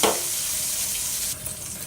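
Curry leaf tempering sizzles and fries steadily in a hot pan for Telugu ridge gourd pickle, a continuous close crackle that brightens slightly near the end, with no talking.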